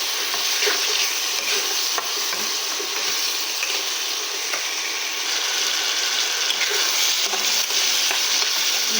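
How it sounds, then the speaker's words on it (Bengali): Chopped tomatoes stir-fry in a pan for chana dal with soybean, a loud, continuous close sizzle with a spatula repeatedly scraping and stirring. "এটাকেও এর সাথে খুব সুন্দরভাবে কষে নেবো, যেন এমনভাবে কষা হবে যেন টমেটোটা এর সাথেই গলে যায়"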